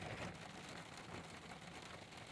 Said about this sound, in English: I'm sitting here listening to the rain on the roof of the adventure truck